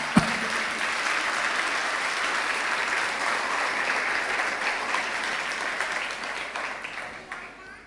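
A church congregation breaks into sustained applause that holds steady for several seconds and then tapers off toward the end.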